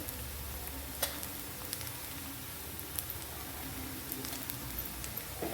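Onion and turmeric sauté in hot oil in a pan, giving a quiet, continuous sizzle with occasional soft clicks of stirring, close but low in level and with no voices.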